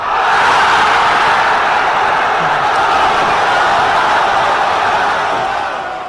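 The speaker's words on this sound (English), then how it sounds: "We have a very hyped up crowd here tonight. They are here to get loud." A hyped-up crowd at a high school football game between the Noblesville Millers and the Brownsburg Bulldogs roars in a loud, sustained wash of cheering that holds steady and fades slightly at the end.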